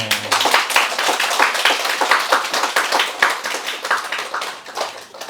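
An audience at a Buddhist dharma talk claps together in quick, rhythmic unison, loud and close, with crisp individual slaps over a few seconds and no talking.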